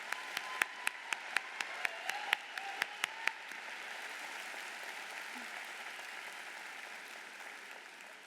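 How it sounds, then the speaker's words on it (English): Audience applause, a crowd clapping steadily, with a few sharp individual claps standing out at first before blending into a continuous wash. "You deserve a round of applause"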